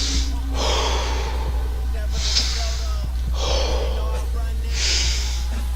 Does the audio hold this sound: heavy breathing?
yes